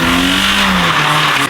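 A manual Mazda MX5 drift car's engine revs hard and loud right up close, a sustained strained high-rpm drone with a slight tire squeal quality, cutting off abruptly.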